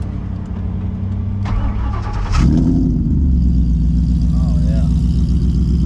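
A custom lowered Ford Ranger engine cranks and fires up, then settles into a deep, steady, rumbling idle close by. Someone briefly speaks over the idle.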